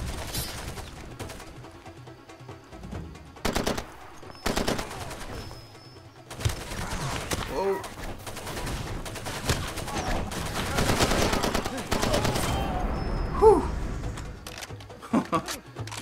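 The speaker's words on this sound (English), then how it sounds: "And there is a lot of gunfire." Bursts of rapid gunfire crackle repeatedly over a busy, noisy soundscape in the video game Far Cry 2, with a voice talking intermittently throughout.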